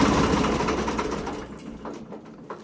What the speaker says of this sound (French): Et pour éteindre, c'est ici.